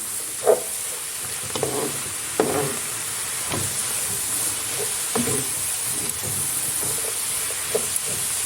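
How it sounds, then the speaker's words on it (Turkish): Onions fry in oil in a pan, giving a steady hiss with sharper crackles and the scrape of stirring every second or so. It is fairly loud and close, with no talking. "Soğanlarla yağ ile buluşturalım."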